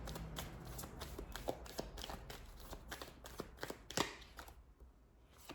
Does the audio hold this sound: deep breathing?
no